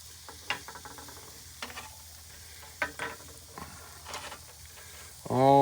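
Oysters sizzle and bubble on a Lodge Sportsman's Pro charcoal grill, a soft steady hiss broken by small pops and crackles, with a voice breaking in loudly near the end.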